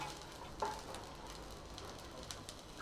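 Curry leaves with fresh coriander sizzle and fry in a pan for a chutney, a steady, faint crackle with a brief sharper burst of spattering.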